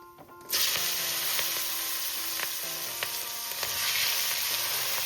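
Cauliflower and radish stalks hit hot oil with turmeric and break into a loud, sudden sizzle. The frying hiss stays steady and close, with occasional light stirring clicks.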